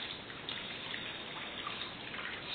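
One liter of water pours steadily into a mixture for homemade bubble potion, making a soft, even rush that lasts throughout without pause.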